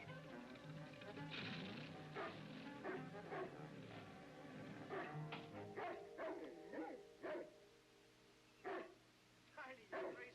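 A dog barks and yips repeatedly in a kitchen in an old film, sharp bursts scattered across the scene, mixed with voices and busy background sound.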